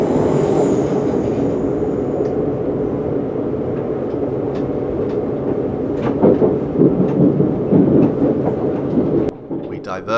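Electric train on the Watford DC line near London runs along the track with a loud continuous rumble and rattle, wheel clatter building near the end before the sound abruptly changes as it enters a tunnel.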